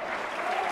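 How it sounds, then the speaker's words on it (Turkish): Applause from the crowd at an Isparta versus Serik Belediye football match, a short, steady, moderately faint patter of clapping. "Spartalı futbolcuların bir mücadelesi alkış aldı."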